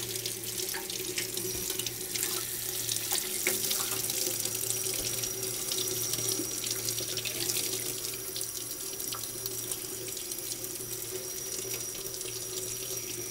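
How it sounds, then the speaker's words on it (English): Tap water runs steadily into a sink, washing sand off a fossil impression set in a pan, a close, continuous splashing and hissing stream with no voices. "And then you turn on the water, and it washes all the sand off."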